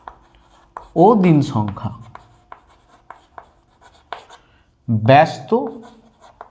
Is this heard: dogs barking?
no